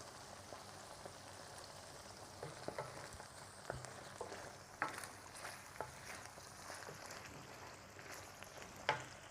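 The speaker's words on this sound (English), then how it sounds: "Just want this sauce to simmer." Tomato pomodoro sauce simmering in a pan, with sardines nearby for a Mediterranean seafood linguine, gives a soft, steady bubbling and spattering hiss with scattered small pops and clicks, fairly quiet and close throughout with no talking.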